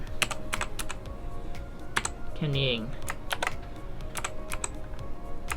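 Someone presses keys on a Signo Pinkker keyboard, producing sharp, close clicks in an irregular rhythm throughout, with a short spoken remark in the middle.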